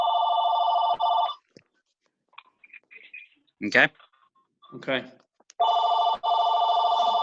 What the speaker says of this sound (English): somebody's got a phone ringing there